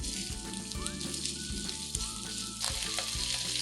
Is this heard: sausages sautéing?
yes